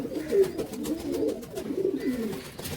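Jak Pilong Chuithal pigeons coo close by, several soft throaty rolling coos overlapping in a steady low murmur, with no voices.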